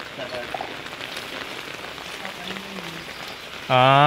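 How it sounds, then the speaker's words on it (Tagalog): Steady rain pours down in a dense, continuous hiss, with a loud harmonic tone cutting in abruptly near the end. "Grabe ang ulan."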